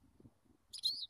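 A pet small bird gives a brief, high, bright chirp close by near the end, after a soft low murmur.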